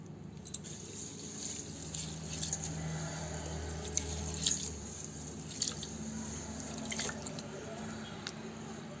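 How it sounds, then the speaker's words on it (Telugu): Raw rice being rinsed two or three times in water for a Dindigul-style biryani, giving soft drips, splashes and sloshing at close range that carry on steadily, with no talk over them. "ఒక 2-3 సార్లు కడుక్కోవాలి బియ్యాన్ని."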